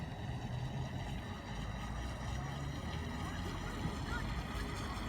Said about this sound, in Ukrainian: Як кораблик себе поводить. Приємно входить повороти.